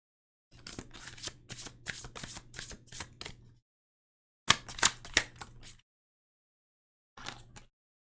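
Tarot cards being shuffled and drawn, with three bursts of crisp riffling and snapping cards close by. The first run is long and steady, the second shorter and sharper, the last a brief flick, with silence between.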